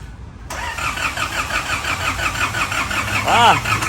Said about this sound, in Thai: สตาร์ทเครื่องดู